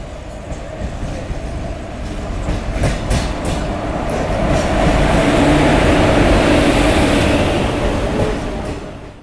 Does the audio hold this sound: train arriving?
yes